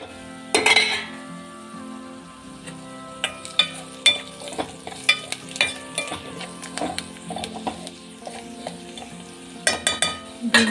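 Meal maker soy chunks frying in a pan, a steady sizzle broken by repeated clinks and scrapes of a spoon stirring against the metal, close and with no talk.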